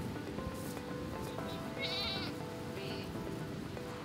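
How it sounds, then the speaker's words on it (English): Goats kept on a Danish nature project bleating out in the open, with a couple of wavering cries in the middle of steady outdoor background noise. A fainter call follows, and nobody speaks. "it's our goats that's up there"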